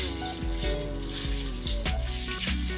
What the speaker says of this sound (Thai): ผมก็จะเอา พริก แกงป่านะครับ ใส่ลงมาผัด